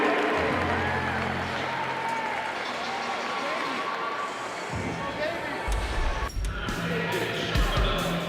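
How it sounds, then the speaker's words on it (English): A crowd at the 2018 CrossFit Games applauds and cheers in a steady, distant wash for heat athletes, with an announcer talking over it and a few heavy thuds near the end. "Round of applause for your Heat 1 men closing out their day number 2"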